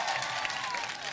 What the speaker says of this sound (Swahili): Mnamjua, pigeni makofi.